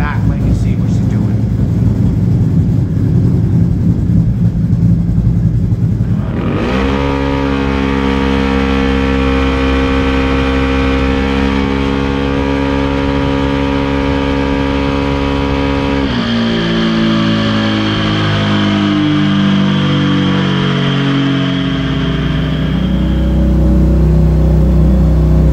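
A 2022 Can-Am Renegade X-MR 1000r with a fuel injection tune idles, then revs hard on a dyno in a long loud climbing pull, drops off and burbles back down, with talk at the start.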